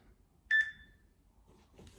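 A single short electronic beep from a workout timer during a home PE session, sharp and clear against a quiet room, followed by faint rustling.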